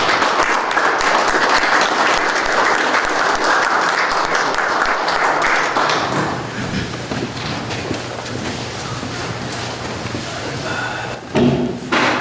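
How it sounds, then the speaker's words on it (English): A round of applause at a township committee meeting: a loud burst of clapping from the room for about six seconds, then thinning into scattered claps and shuffling, with a brief knock near the end. "And certainly a round of applause is fitting."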